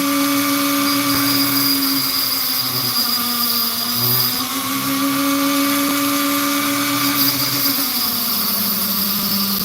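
A lapidary saw cuts through precious opal with a loud, steady high-pitched whine whose pitch dips and rises as the blade bites into the stone, continuous and close throughout.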